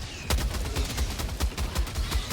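A heavy machine gun in the Helldivers 2 video game fires a continuous burst of rapid, evenly spaced, loud booming shots, about five per second, with no speech.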